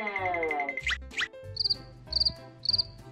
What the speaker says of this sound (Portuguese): Esse aqui é o grilo. Em inglês se diz Cricket.